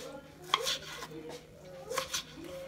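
A knife cuts tomatoes into triangles on a board, with a few quiet, separate cutting taps and scrapes in two small clusters, close and faint, with no voices.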